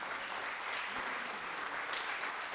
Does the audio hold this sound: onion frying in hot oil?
no